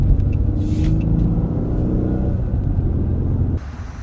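A 2014 Dodge Charger Pursuit police car on the move: a loud, close, steady low engine rumble with road noise, holding level before dropping in intensity near the end.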